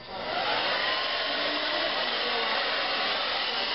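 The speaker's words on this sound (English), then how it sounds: "you can't put the blow dryer under your hair. Just set the blow dryer down." A handheld blow dryer runs steadily while drying hair, giving a loud, continuous whooshing roar with no break for the whole stretch.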